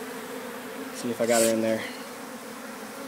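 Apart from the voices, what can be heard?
honeybees buzzing during hive removal from water main access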